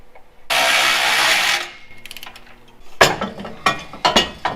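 A torque converter turning inside the transmission of a Dodge Coronet, heard as a loud, sustained mechanical whir that fades out, followed by a run of close, sharp metallic clicks and knocks.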